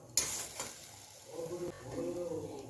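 Ghee poured onto a piece of hot charcoal in a small bowl set among marinated chicken kabab hisses in a sharp sudden burst, then settles into a quieter crackling sizzle.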